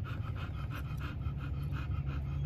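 A dog recovering from surgery pants rapidly and rhythmically, close by, with quick regular breaths and a low hum in the background.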